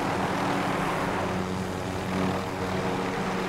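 A helicopter flies steadily in a multiplayer shooter video game, its engine and rotor droning as a continuous broadband hum with low tonal bands, loud and unbroken throughout with no talk.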